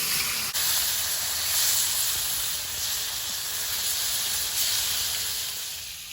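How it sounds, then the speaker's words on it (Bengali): Fish frying in hot oil in a wok makes a steady, close hiss with no break, with no voices over it. "এবার মাছটা দিয়ে দেব মাছগুলো ভেজে নিচ্ছি"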